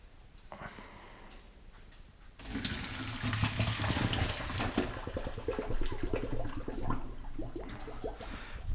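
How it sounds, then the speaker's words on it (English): Boiling water from a pot poured into a colander in a kitchen sink, a sudden loud gush that splashes and rushes steadily for several seconds after a quieter start. "strain this in the colander in the sink. And be careful because it's boiling water."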